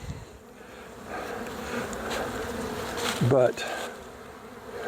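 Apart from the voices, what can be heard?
honeybee swarm buzzing around hive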